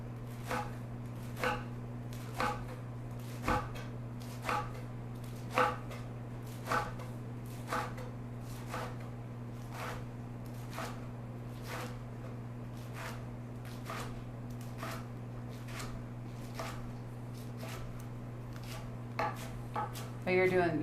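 A knife chops collard greens into quarter-inch ribbons on a cutting board, the crisp chops landing in a steady, evenly spaced rhythm over a constant low hum.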